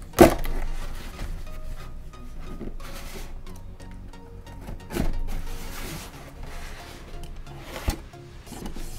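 Handling and prying open a glued cardboard package, with scattered scrapes, rubs and small knocks at close range and one sharp snap near the start, with no talking.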